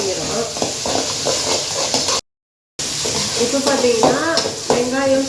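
Tomatoes sautéing in a pan for a bean stir-fry, a steady close sizzle with scraping stir strokes, broken by a short silent gap midway.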